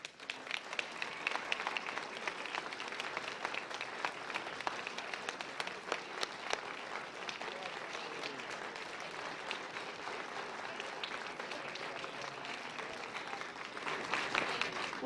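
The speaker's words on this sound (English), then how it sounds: "So please join me in applauding them." A seated audience gives sustained applause for the cast of a stage production, many hands clapping in a continuous, even roar that swells slightly at the close.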